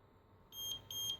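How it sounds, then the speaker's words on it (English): Two short, high-pitched electronic beeps from a car alarm remote, one right after the other, sounding close and clear over a faint low background hum. "after the long beep, you're listening for 2 beeps"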